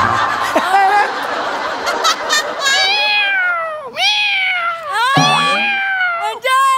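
A performer on a comedy stage show imitates a cat with a run of exaggerated, sliding meows, loud and close, mixed with giggling and laughter from others nearby.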